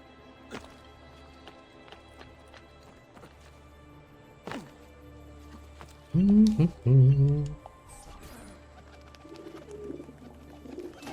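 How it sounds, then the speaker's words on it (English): Pigeons at a pigeon coop in the video game Assassin's Creed II give a short burst of low throaty cooing midway, set against quiet game ambience with scattered footsteps and clicks. "I can see the little pigeon coop."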